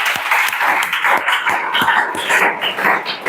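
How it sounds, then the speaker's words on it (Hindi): A class of students clapping together in a coaching classroom, loud, continuous and close, with sharp individual claps standing out over the steady patter. "कंचन के लिए जोरदार ताली बजाओ"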